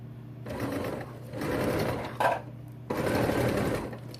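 A sewing machine stitches a pair of pants in three bursts of steady, close mechanical whirring, with brief pauses between runs and no talking.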